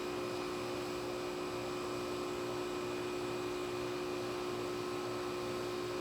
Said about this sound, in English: Now you're going to have to contend with the sound of my air conditioner